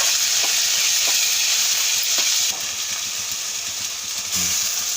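Chilli powder being stirred into a bubbling country-chicken egg curry base, a loud continuous sizzle and hiss with several short spatula scrapes against the pan, the frying briefly dipping then rising again.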